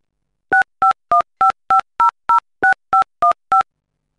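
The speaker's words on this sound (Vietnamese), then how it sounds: "để tôi điện thoại liền mới được" Telephone keypad dialing in a Vietnamese radio drama: eleven crisp, evenly spaced two-tone DTMF beeps, loud and close, with no voices over them.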